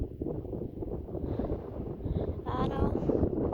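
Strong wind on a mountain buffets the microphone with a loud, low rumbling roar that swells and gusts throughout, with faint voice-like sounds mixed in.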